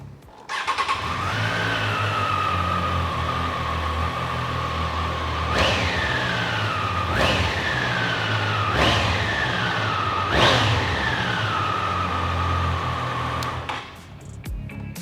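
A motorcycle engine idles steadily, then gets four sharp throttle blips that rise and fall in quick succession before cutting off near the end.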